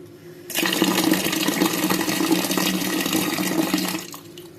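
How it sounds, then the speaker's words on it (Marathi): Sprouted moth beans are washed in clean water, a steady rushing stream of water pouring and splashing for about three and a half seconds at close range, then cutting off abruptly. "ही मटकी आपण अशी स्वच्छ पाण्याने धुवून घ्यायची आहे"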